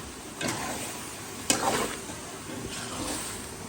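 Grated carrots fry and sizzle in desi ghee in a pan for gajar halwa, with a soft steady hiss broken by three or four scraping stirs of a spoon, quiet and close.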